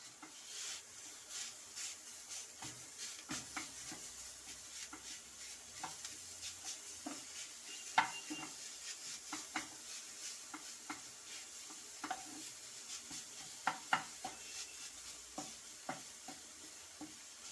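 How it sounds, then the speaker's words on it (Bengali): Mashed potato is stirred into a cooked jackfruit mixture in a pan for vegetable chops, with quiet sizzling under frequent sharp spatula taps and scrapes in an irregular rhythm, close but soft, no talking. "এবার আমি এতে দিয়ে দেব আলু মাখা। এভাবে আলুটাকেও ভালোভাবে মিশিয়ে নিতে হবে।"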